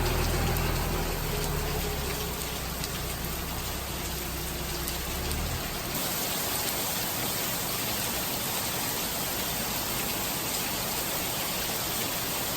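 Steady rain falling around a trail shelter on the Appalachian Trail in Virginia, a dense continuous hiss of drops on surfaces, loud and unbroken with no voices.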